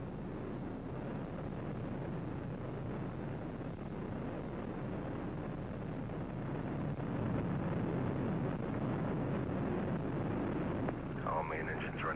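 Space Shuttle Discovery's main engines throttled to 65% during ascent on mission STS-51-D, a steady deep rumbling roar with wind-like buffeting, constant and loud throughout.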